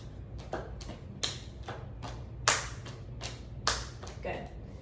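Hand clapping during a neurological exam: a series of sharp, close claps in an uneven rhythm, some louder than others, with faint rustling and quiet room noise between them.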